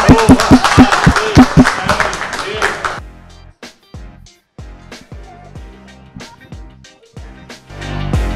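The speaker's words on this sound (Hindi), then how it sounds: "ताली बजा दो।" Group clapping in an office team game, loud and crowded for the first three seconds, then sparser, separate claps alone with little talk.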